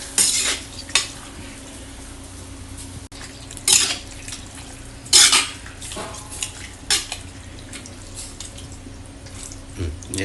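Chicken curry is stirred in a pan as water is added, with a spoon scraping and clinking against the metal in irregular bursts over a low, steady kitchen background.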